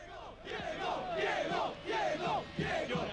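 A packed stadium crowd of 90,000 at a Sunday football match in Naples roars and chants continuously, a dense, loud wall of voices swelling in waves with no break.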